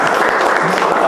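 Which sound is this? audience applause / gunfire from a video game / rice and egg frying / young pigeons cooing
audience applause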